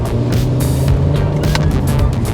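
A Mercedes SLK 350 roadster engine revving while driving, a loud close drone with a steady low tone that rises and dips slightly as the car moves, with wind noise and brief broadband bursts on top.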